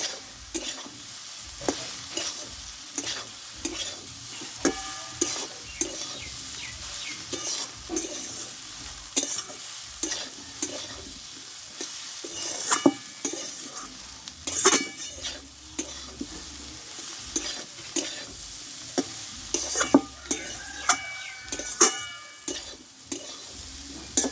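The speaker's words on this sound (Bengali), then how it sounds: "এবার কষে রাখা আলু সোয়াবিনগুলো দিয়ে দেবো দিয়ে একসঙ্গে একটু ভালোভাবে কষিয়ে নেবো" Potatoes and soybean chunks stir-fried in a thick spice paste, with repeated scraping and stirring strokes over a low sizzle, close and fairly quiet, with no talking.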